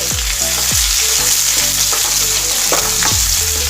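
Onions sizzle and fry steadily in a pan for a matar paneer curry, a continuous close crackle with a few stirring clinks and scrapes throughout.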